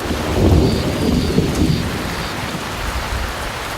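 Rain falls steadily while thunder rumbles low in the background, a broad hiss of raindrops over deep, rolling thunder during a thunderstorm.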